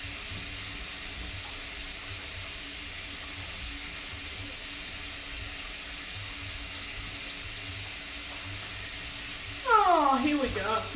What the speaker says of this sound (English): I'm going to scrub the bottom of this friggin' saucepan until it's all scrubbed off